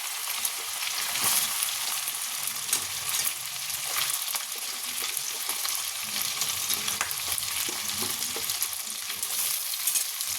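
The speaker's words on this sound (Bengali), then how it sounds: "সব পেঁয়াজ দেওয়া হয়ে গেছে হালকা হাতে নেড়ে নেব" Onions sizzle steadily in hot oil with ginger, green chilies and garlic as they are gently stirred around a pan, a dense, continuous crackle with scattered sharper pops and no voices.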